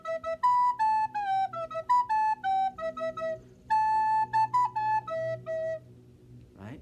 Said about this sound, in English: the soprano recorder sounds like this.